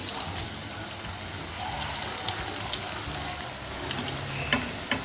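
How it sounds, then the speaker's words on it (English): Chicken kofta balls sizzle and crackle steadily in oil up close, with a few brief pops and stirring clinks throughout. "I'm going to finish frying all the balls."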